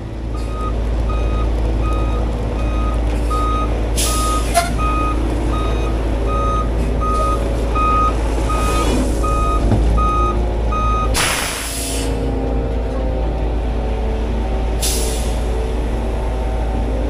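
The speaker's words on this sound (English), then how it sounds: "We got our second truck coming in" A concrete truck arriving at a lakefront pumping job idles with a heavy diesel rumble while its backup alarm beeps in a steady, regular rhythm, punctuated by several loud hissing air-brake releases.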